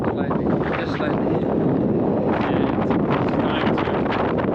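Wind blowing outdoors on a slightly cold day on Iceland's Golden Circle in March, a loud, constant rumbling buffet against the microphone with gusty swells throughout.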